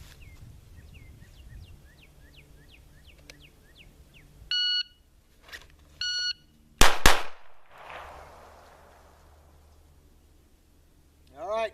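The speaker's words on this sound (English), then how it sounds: "All right, 2 shots." Two sharp, loud pistol shots in quick succession follow a draw from a hip pack holster, preceded by electronic timer beeps, with faint birdsong at the start.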